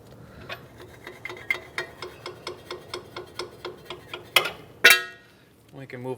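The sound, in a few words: wrench tightening Mazda CX-9 sway bar link bolt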